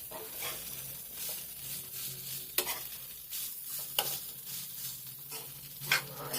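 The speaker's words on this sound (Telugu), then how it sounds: "ఎలా కలుపుతున్నానో అలా అన్నీ పసుపు రంగులో వచ్చేంత వరకు మనం బాగా కలుపుకోవాలన్నమాట" Flattened rice upma with turmeric stirred in a pan, soft scraping strokes over a light sizzle with a few sharp clinks of the spoon, fairly quiet and close, no voices.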